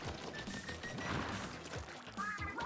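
A burst from an explosion in the Splatoon 3 video game, a dense, noisy crash spread through the clip over busy game sound and music, with no clear single boom.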